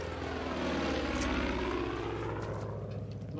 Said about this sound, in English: Aeroplanes flying around now.